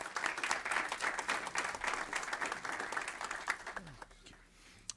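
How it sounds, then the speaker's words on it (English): Applause from an audience at an evening committee of the whole meeting, a steady wash of many hands clapping that fades after about four seconds into quieter room sound. "we deserve to give them a nice round of applause"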